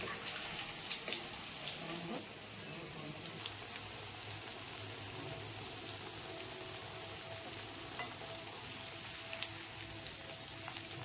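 Jackfruit seed kofta balls frying in hot refined oil in a wok, a soft continuous bubbling sizzle with faint pops, steady and fairly quiet throughout, no talking.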